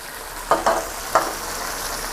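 Shrimp, long beans and red chilies stir-fry in a hot pan with a steady sizzle, broken by a few sharp scraping stirs, close by and with no talking.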